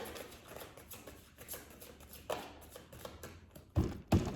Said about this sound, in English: All right, I'm gonna give it one more shuffle.